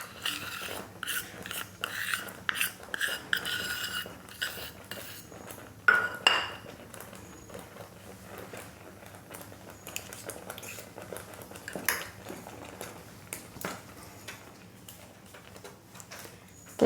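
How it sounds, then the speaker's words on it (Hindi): A spoon repeatedly scrapes and clinks against a pan while stirring a thick mango laddoo mixture cooked down like khoya, in irregular close strokes with quiet pauses between. "तो इसको इस तरह चलाते रहेंगे और इसमें अच्छे से मिला देंगे।"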